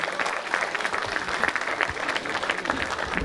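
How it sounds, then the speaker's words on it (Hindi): Steady, dense applause from an audience at a mushaira, an Urdu poetry reading, filling the hall evenly and continuously for a few seconds with no voices on top. "भाई तालियां बजती रहें"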